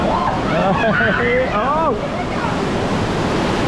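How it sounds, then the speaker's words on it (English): A massive water effect on a theme park ride at Busch Gardens Tampa Bay gives a loud, steady rush of spraying, splashing water, and a voice cries out over it. "this is where someone's about to get absolutely soaked as we go underneath this massive water effect"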